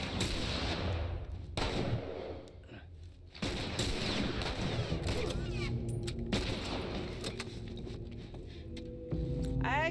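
Sniper rifle and other gunfire in The Last of Us video game, several loud sharp shots and bursts spread across the ten seconds amid dense game noise, with a voice talking at times.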